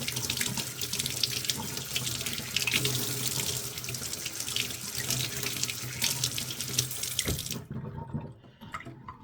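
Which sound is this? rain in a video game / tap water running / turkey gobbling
tap water running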